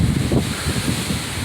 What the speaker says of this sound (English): it's not nearly as violent, but it's still quite windy